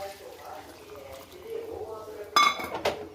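A metal lid goes onto a pot of mutton pulao with a sharp clink, followed by a lighter second clatter. Both sounds rise above a low kitchen background, and a voice talks quietly underneath.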